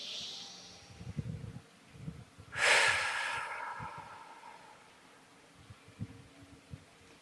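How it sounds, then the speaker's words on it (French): A forced exhale during a yoga breathing exercise: one strong, breathy rush of air through the mouth after the belly is filled, with softer breaths and faint room noise before and after it. "On vient gonfler notre ventre et on va faire une expire qui est forcée."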